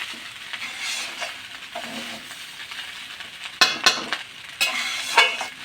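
Fried rice being stirred in a pan with a little ghee, giving a steady close sizzle and scraping stir strokes, with sharper utensil clatters toward the end.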